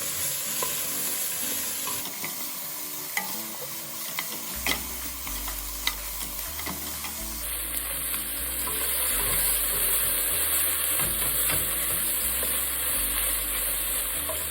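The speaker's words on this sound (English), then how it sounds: "Keep mixing it until the capsicum gets cooked." Capsicum fries and is stirred in a pan while cooking a rice and vegetable soup. A steady sizzle runs throughout, with scraping stirs in an uneven rhythm, close by and moderately loud, and no voices.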